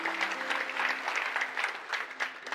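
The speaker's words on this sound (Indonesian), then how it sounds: "Beri tepuk tangan untuk kebenaran ini." An audience at a family seminar breaks into sustained applause, many hands clapping in a continuous dense patter, moderately loud, with a faint tonal hum underneath and no talking.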